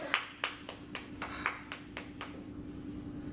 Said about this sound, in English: We need to clap.